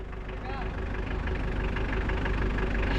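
A diesel engine idles nearby, a steady low rumbling chug with a regular knocking pulse, loud and continuous for a few seconds.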